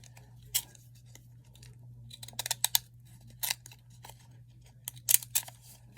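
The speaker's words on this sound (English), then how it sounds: "I'm going to cut that off just a tiny bit more." Scissors snip a paper decoration for a fabric scrapbook pocket in a few quick, sharp cuts scattered through the clip, heard over a steady low background hum.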